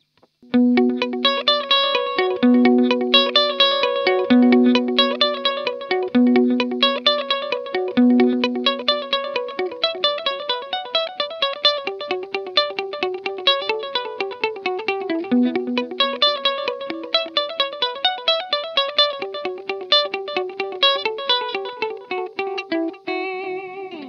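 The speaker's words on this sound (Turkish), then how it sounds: "Başka delay'lere bakalım neler varmış." Electric guitar notes run through the delay effects of a Vox Dynamic Looper. Plucked notes repeat in steady echoing trails that stack into a dense, continuous shimmer across the whole passage.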